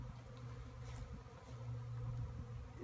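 Swarming honey bees leaving the hive outdoors, a faint continuous buzzing hum that swells slightly at times, with no talk.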